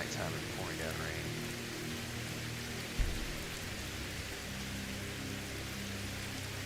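Heavy nighttime downpour in the game Skyrim, a dense constant hiss of rain on surfaces, with a brief dull thump partway through and a faint voice in the background.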